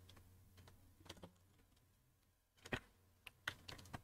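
Computer keyboard typing code, faint scattered key clicks in short irregular bursts over a low hum, with pauses between.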